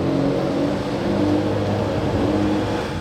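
A red Ferrari Roma sports car drives past with a steady, loud engine drone and whirring, holding an even pitch throughout with no voices.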